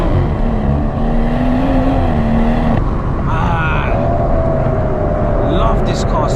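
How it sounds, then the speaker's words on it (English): BMW M140i Shadow Edition with a PCW exhaust mod, heard from inside during a drive: a loud, steady engine drone rises and shifts pitch with gear changes, with faint exhaust crackles over the constant road roar. "PCW exhaust mod, which makes it a little bit louder, which is why you're getting a couple of more crackles"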